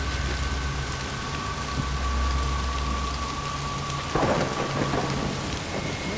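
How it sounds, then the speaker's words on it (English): Rain patters steadily in a forest in the VR game Lost in the Rift, with deep thunder rolling underneath and a sharper crack near the end; no one speaks. "Okay, it's raining."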